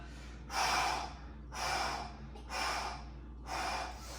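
Deep breathing during a home workout: four slow, loud breaths near the microphone, each a rushing inhale or exhale about a second long, spaced evenly with quiet gaps between.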